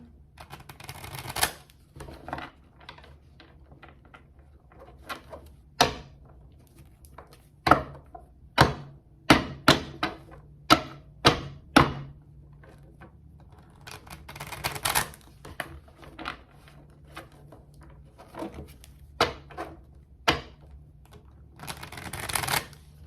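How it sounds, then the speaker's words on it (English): Tarot cards being shuffled, a run of crisp snapping riffles and clicks in irregular bursts, close up in a quiet room. "I'm going to go ahead and shuffle"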